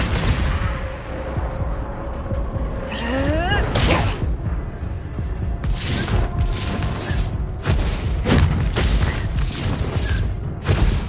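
Fire spell blasts and explosive bursts in Hogwarts Legacy gameplay, loud booms and cracks over a dense, rumbling game soundscape with a rising whoosh, repeated through a busy battle.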